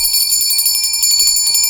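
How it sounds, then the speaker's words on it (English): A bell rings with a bright, sustained metallic tone, steady and clear and fairly loud, with no talk. "ringing of the bell"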